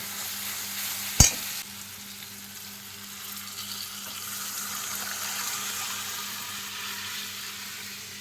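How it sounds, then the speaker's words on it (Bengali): Boiled lentils for tadka are poured into a hot, sizzling pan in a home kitchen: a sharp splash lands early, then a steady frying sizzle with light stirring carries on at close range. "তরকাটা সিদ্ধ করা তরকাটা এবার ঢেলে দেবো"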